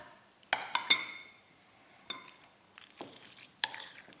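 Ricotta and Philadelphia cream cheese being mixed in a bowl, heard as soft scraping with a few sharp utensil clinks against the bowl, quiet and close, no voices.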